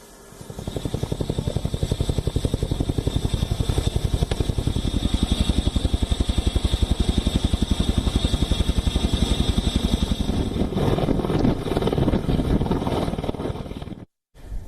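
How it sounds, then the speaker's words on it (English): A heavy Chinook helicopter drones steadily with a fast rotor thump and a high whine, loud and continuous, briefly cutting out near the end, during night operations in Ladakh. "The heavy lift Chinook helicopters were also pressed into action."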